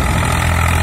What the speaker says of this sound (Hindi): दोस्तों ट्रैक्टर का साउंड भी सुन सकते हैं आप, बस जब पूल अंदर जाता है तभी हल्का साउंड चेंज होता है